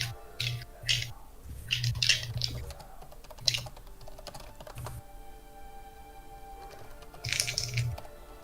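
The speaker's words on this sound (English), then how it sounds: "I am typing them up now" Fingers tap a computer keyboard in quick bursts of clicky keystrokes, pausing between runs, close and fairly quiet with a faint hum beneath.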